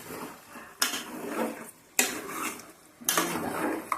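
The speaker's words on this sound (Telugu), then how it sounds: "ఆనియన్స్ ఆయిల్ అంతా కలిసిపోయేలాగా మంచిగా కలుపుకొని" Chopped onions are stirred in oil in a pan for a homemade chicken curry with palak. A spoon scrapes and clatters against the pan in three distinct bursts, each fading into a soft, ongoing scraping. No one speaks.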